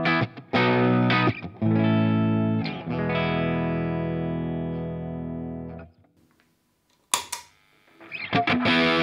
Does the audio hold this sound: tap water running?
no